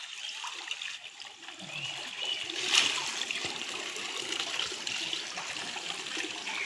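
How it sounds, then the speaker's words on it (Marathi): Water runs continuously from a channel, a soft, steady trickle and splash heard faintly at a distance, with no voices over it. "पाणी तर सतत चालू आहे."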